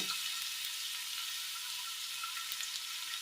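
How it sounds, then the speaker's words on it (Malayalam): Finely chopped ginger frying in hot oil for a Kerala curry, a steady close sizzle and crackle with no break and no talk. "എണ്ണയിലേക്ക് പൊടിയായി അരിഞ്ഞെടുത്ത ഇഞ്ചി ഇട്ട് കൊടുക്കാം"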